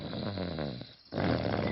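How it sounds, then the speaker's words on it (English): Loud, close snoring with rumbling breaths, a short pause between two snores. "What's that sound? It sounds like snoring."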